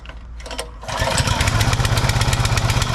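A SupaSwift 25-ton log splitter's small petrol engine is pull-started with a brief rattling crank, then catches and settles into a loud, steady, rapid putter close by.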